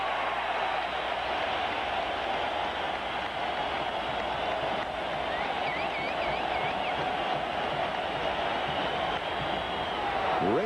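A baseball stadium crowd of 48,625 on its feet at a 1999 NLDS playoff game, Braves at Astros, keeps up a loud, steady roar that fills the whole stretch without a break.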